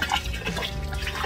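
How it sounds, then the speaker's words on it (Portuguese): Water pours steadily into a drum set up to soak grape cuttings, a close, continuous rushing fill without talk. "Tem que encher mais de água aqui porque ela toda tem que ficar"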